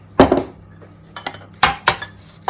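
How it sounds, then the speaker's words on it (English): Eggs being beaten into oil in a bowl for banana muffins, sharp clinks and taps of a utensil against the bowl in irregular bursts, close and alone without talk. "beat up the eggs into the oil"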